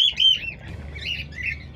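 Cockatiels squawk and chirp in short, harsh bursts, with a loud call at the start and more calls at intervals, over a low background hum.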